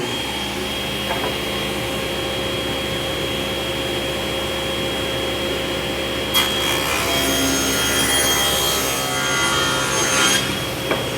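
A table saw rips narrow strips of wood stock, its steady motor whine joined by a harsher cutting rasp as the blade bites partway through, loud and continuous with no voices.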